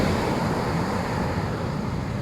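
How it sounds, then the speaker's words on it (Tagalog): Strong South China Sea waves crash and rush onto a Zambales beach, a loud, continuous roar of surf mixed with wind buffeting the microphone. "Grabe ang lakas ng alon natin."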